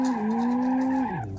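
Tires screech steadily as a car spins through a 360 in the BeamNG driving game, a loud sustained tonal squeal that holds, then drops in pitch and fades near the end.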